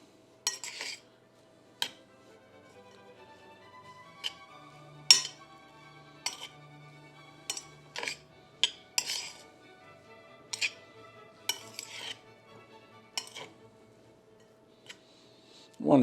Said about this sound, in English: And then we'll take and stir this all up.